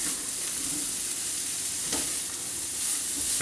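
A stir-fry sizzles over high heat as a dense, continuous crackle close by, with a couple of soft stirring scrapes and no talking.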